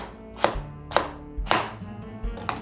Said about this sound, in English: Lay them out on the flat surface, and then, again, using your knuckle as an index, just cut your potatoes.